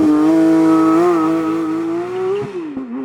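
A Porsche 911 GT3 Touring launches hard under launch control. A loud, close engine note climbs steadily with clear harmonic pitch, dips briefly at a gear change, then tapers off.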